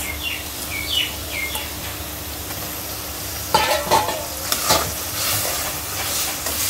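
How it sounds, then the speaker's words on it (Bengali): Radish sautéed in a pan with turmeric, chili powder, green chilies, coriander, cumin and shrimp gives a steady close sizzle and stirring scrape, growing louder in the second half with a few sharper bursts, and faint bird chirps early on. "এখন মূলা দিয়ে কষানো হচ্ছে।"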